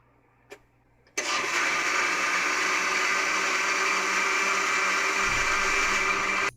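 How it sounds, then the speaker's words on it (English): A kitchen blender starts with a sudden loud whir and runs steadily for several seconds, blending a fruit cocktail milkshake, close and constant before cutting off abruptly. "And now you want to blend it"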